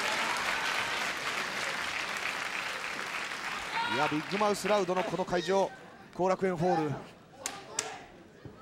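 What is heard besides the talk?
audience applause at Korakuen Hall wrestling event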